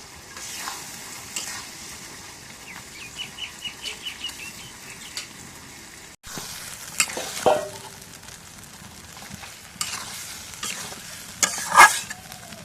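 Goat meat being fried and stirred in spiced masala, a soft sizzle with scattered scraping and clatter of the spoon, growing busier and louder toward the end, with no talking.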